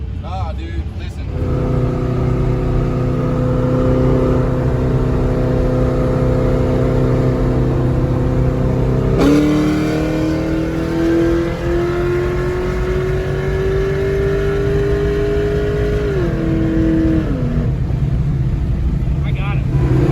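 A Pontiac G8 with a 370 LS V8 drones loudly and steadily, then its revs climb in a long, smooth rise before backing off and settling again, while people are heard speaking nearby.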